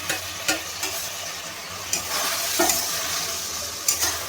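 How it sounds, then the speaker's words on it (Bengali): Fried paneer cubes hit a hot wok for dry chilli paneer, giving a steady broad sizzle with a few sharp scraping stirs spaced through the run. Close and fairly loud, and no one speaks. "ভাজা পনিরগুলো এবার দিয়ে দেবো আমি কড়াইয়ের মধ্যে।"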